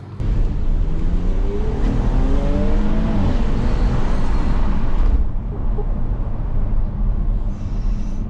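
A Porsche Panamera 4S drives along, its engine and road noise filling the cabin at a steady loud level with a brief rising rev, and the noise eases near the end while people talk inside the car.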